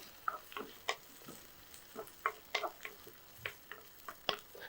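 Shallots and green chilies sautéing in a pan give off quiet sizzling with light, irregular clicks and scrapes of stirring, with no talk over them.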